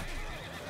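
A horse neighs in the video game Mount & Blade II: Bannerlord, a short, loud whinny over a dense, busy battle din with no talk.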